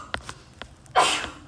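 A single sharp sneeze bursts out close and loud after a few faint breathy sounds, brief and alone.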